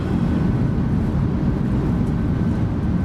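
PMDG 737-800 thrust reversers on landing in MSFS 2024, a loud, steady, dense engine roar with no breaks, close and filling the cabin.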